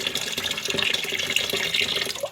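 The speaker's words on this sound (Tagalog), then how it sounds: "Ako ibutang ang tubig" Water is poured into a container in a continuous, close, bubbling splash that stays steady and fairly loud, with no voices.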